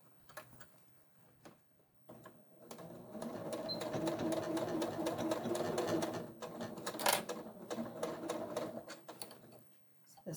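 A sewing machine hums and rattles steadily while stitching the top edge of a pleated pouch, joining two small bags along a seam, fairly quiet and close, with a few soft clicks around it.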